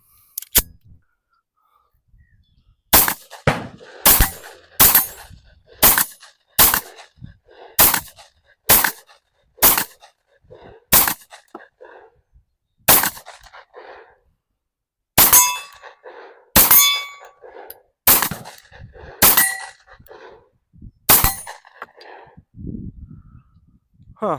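A string of sharp, metallic clanging shots from an Ermox XFire Defense launcher being fired, about twenty separate reports at an irregular, fairly quick pace over the clip, loud and close, with no talking.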